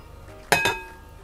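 Two quick clinking knocks, close and fairly soft, as mashed potato is scraped from a pan into a larger container, with quiet background around them.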